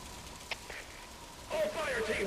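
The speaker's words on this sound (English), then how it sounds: "Now it's started to rain." Game rain hisses in Metal Gear Solid V: The Phantom Pain, a steady wash of falling drops that swells louder partway through, with a voice also present.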